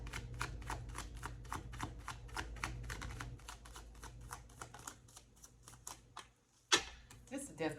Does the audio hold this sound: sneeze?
no